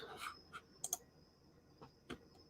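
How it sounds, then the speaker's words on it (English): A computer mouse clicks a few times, sharp light taps close to the mic with uneven gaps, including a quick double click, over a faint hum and no talking. "I'm clicking on it and it's not coming off."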